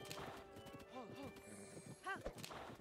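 A horse in Zelda: Tears of the Kingdom clip-clops and lets out short whinnies, heard fairly close, with a voice talking over it at times.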